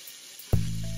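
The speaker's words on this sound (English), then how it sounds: "Run some hot tap water and make sure it is not too hot to touch." Hot tap water starts running partway through, a sudden close gush that settles into a steady splashing flow, preceded by quiet room tone.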